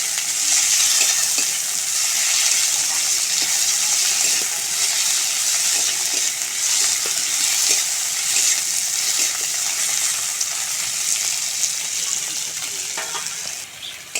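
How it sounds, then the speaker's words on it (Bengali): Chopped tomato frying with onion in a pan for a pointed gourd curry, a loud continuous sizzle broken by light scraping stirs throughout. "টমেটোটাও ভালো করে নেড়ে চেড়ে ভেজে নেব।"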